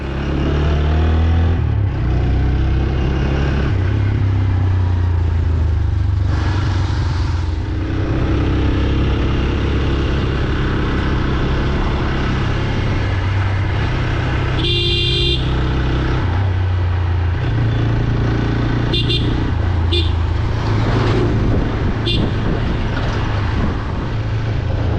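A steady engine drone from a motorcycle climbing a hill road at night, continuous and close, with a few brief horn-like toots over the rumble and no speech.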